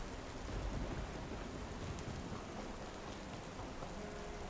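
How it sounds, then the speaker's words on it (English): Rain falls in the game Star Citizen, a dense, constant patter with low rumbling underneath, steady and fairly close with no voices. "now we see some of the rain showing up"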